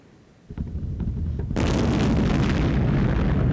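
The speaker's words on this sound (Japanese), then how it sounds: "あ、爆発した。" A large explosion in the retro survival horror video game Enemy Zero begins with a low rumble, then swells into a loud, sustained blast roar that fills the rest of the moment.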